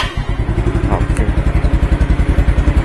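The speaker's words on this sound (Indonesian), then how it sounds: "kita nyalain mesin" A Yamaha Mio Sporty scooter engine runs close by with a rapid, even putter of rhythmic thumps that settles into a steady idle, with no talking.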